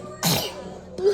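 A child sneezes once, a sharp close burst followed by a brief trailing breath, with another short breathy sound starting at the very end.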